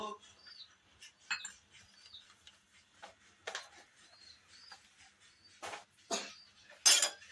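Semolina (rava) roasting in a pan while it is stirred: sparse, separate scraping clinks of a utensil against metal, quiet and near, with gaps of near silence between strokes.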